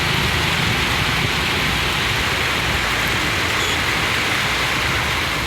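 Heavy rain driven by strong wind around Sivakasi falls as a dense, unbroken roar, loud and constant from start to finish with no pauses or voices.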